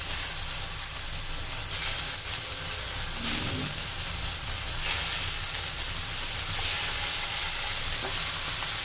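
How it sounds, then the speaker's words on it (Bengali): Steady, close sizzling and hissing of shell-on prawns frying in hot oil over high heat, continuous and fairly loud, with occasional faint stirring sounds. "তেল গরম হয়ে এলে এতে আমরা চিংড়ি মাছগুলো ভেজে নেব।"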